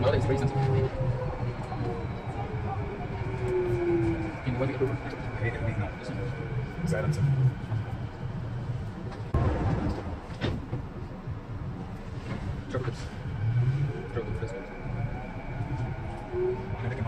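A Canada Line metro train runs toward YVR Airport, with a low rumbling ride, rising and falling whine as it speeds up and slows, clatter over the track, and an onboard announcement voice heard partway through.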